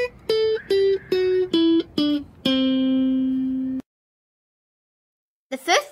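A guitar runs down a C Lydian scale, six quick plucked notes descending before the final low note sustains and decays, then silence and a brief burst of other sound at the end.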